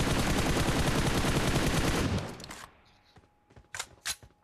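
Rapid automatic gunfire in the mobile shooter PUBG Mobile, a dense, loud burst of sustained shots for about two seconds that cuts off, followed by a few scattered, fainter shots and small noises.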